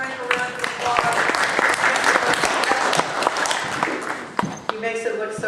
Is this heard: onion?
no